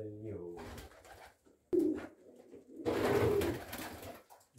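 Breeding pigeons coo close by in a pigeon loft in low, throaty bursts, interrupted by a louder flurry of cooing, with a voice talking faintly at the start.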